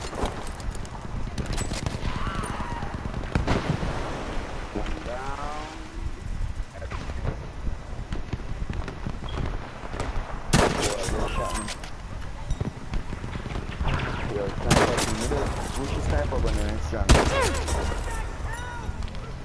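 Gunfire in the video game Battlefield V, with rapid bursts and single shots cracking loud throughout a busy firefight over game noise.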